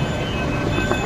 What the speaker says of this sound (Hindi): फाइनली इंतज़ार के बाद हमारी ट्रेन आ चुकी है, मेट्रो ट्रेन